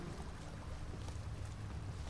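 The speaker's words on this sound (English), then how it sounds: "Winds howling." Wind howls through the woods in The Witcher 3, a faint, steady low rushing drone with no voices over it.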